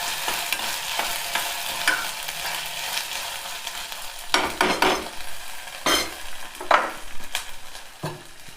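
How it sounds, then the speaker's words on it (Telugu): Ginger garlic paste frying in a pan for a dal recipe, a steady sizzle with spatula scrapes and stirring bursts that grow louder and more uneven toward the end. "అల్లం వెల్లుల్లి పేస్ట్ 1 స్పూన్ వేసుకొని మంచిగా దీన్ని మగ్గించుకోవాలి. ఎర్రగా వేగేటట్టు పచ్చి వాసన పోయే వరకు వేయించుకోవాలి."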